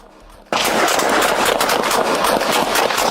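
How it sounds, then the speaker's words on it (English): Gunfire erupts on a police officer's body camera during a stop in a residential driveway. After half a second of quiet, a sudden loud, dense burst of rapid shots continues without a break. "Before Golding could even step up to the window, shots rang out."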